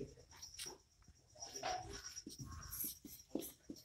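Quick scratchy strokes of writing a chemistry suffix on a board, in several short bursts, with a teacher speaking intermittently over them.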